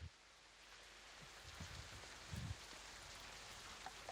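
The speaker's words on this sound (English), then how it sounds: "As y'all can start hearing the rain coming in." Rain comes in as steady background ambience during a tabletop roleplaying game, a soft continuous hiss of falling drops with a few faint low thumps.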